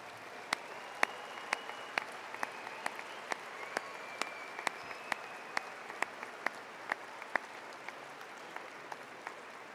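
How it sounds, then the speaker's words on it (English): A commencement audience claps for the faculty as they rise at a university graduation ceremony, steady crowd applause with sharp individual claps spiking through it across the whole stretch. "let's give a round of applause to our outstanding faculty"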